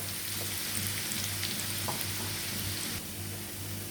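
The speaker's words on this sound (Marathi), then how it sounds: "कांदा पण जरासा मऊसर होईपर्यंत आपण जरा परतून घेऊया." Onion sautéing in a pan for a homestyle Maharashtrian taro leaf curry, a steady soft sizzle and crackle with faint stirring, close and continuous with no talk.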